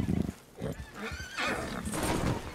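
A frightened horse in the Red Dead Redemption 2 video game neighs and whinnies loudly and up close, the shrill, wavering cries stretching across the clip, with occasional hoof clops beneath.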